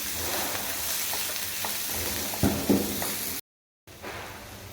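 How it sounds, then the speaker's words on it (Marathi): Ginger, garlic pieces and finely chopped onion sautéing in a pan, giving a steady close sizzle with a few light stirring scrapes, briefly cut to silence near the end. "अर्धा चमचा लसणाचे तुकडे, अर्धा कांदा बारीक चिरलेला हे आपल्याला 2 मिनिटं परतून घ्यायचं आहे."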